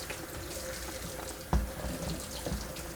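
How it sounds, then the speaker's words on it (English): Cold tap water runs steadily over mushrooms being washed and rinsed in a sink, a continuous close splashing hiss with a couple of heavier splashes near the middle and end. "Cold water on the mushrooms. Give them a wash, and a rinse"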